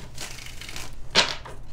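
Tarot cards are shuffled by hand in a quiet room, giving a soft papery riffle throughout with one sharper, louder burst of cards snapping together near the end.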